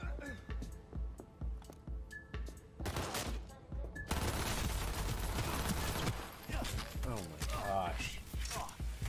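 Cyberpunk 2077 firefight with a heavy burst of gunfire kicking in partway and continuing loud and dense, mixed with game effects, while someone talks over the action.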